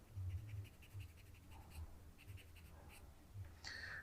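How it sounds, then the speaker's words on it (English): A blade scrapes and trims a plastic part from a Tamiya 1/48 F-4B Phantom scale model kit, with soft, close scratching strokes in short repeated bursts and quiet background, no speech. "just trim this off a bit more"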